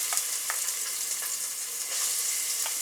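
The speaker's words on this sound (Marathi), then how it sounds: "तेल गरम झालेलं आहे त्याच्यामध्ये कांदा टाकून घेऊया" Chopped onion frying in hot oil in a pot for a Marathi-style chicken rassa, a steady bright sizzle with a few sharp crackles standing out, close and continuous with no voices.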